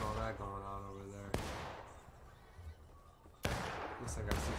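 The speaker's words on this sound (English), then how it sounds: "Looks like I see some gunfire." Two sharp, loud cracks of video game gunfire about two seconds apart, each followed by a rumbling tail, with a low steady background between them.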